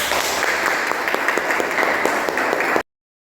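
Audience applause for a student playing the philosopher Aristotle in a group presentation, dense steady clapping from a crowd that cuts off abruptly.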